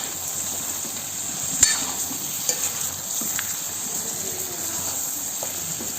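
Garlic frying and being stirred into mutton curry masala, a steady close hiss of sizzling with a few soft clinks and occasional spatula scrapes.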